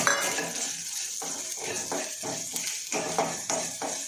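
Urad dal and tamarind dry-roasting in a pan, a utensil scraping and stirring in a steady back-and-forth rhythm, close and moderately loud against a constant background hiss.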